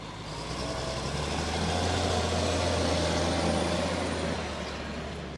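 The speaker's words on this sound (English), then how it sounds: "Koopman are heading to today's worksite with the company's 2 Class Xerion tractors." Two Claas Xerion tractors, a Xerion 3800 and a Xerion 4500, driving along a road, giving a steady low engine rumble that swells slightly and then fades, with no voices.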